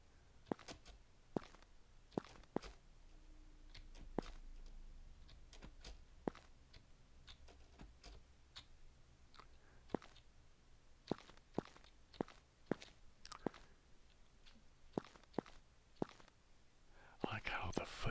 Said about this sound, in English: I like how the footstep sound has a little bit of a grit to it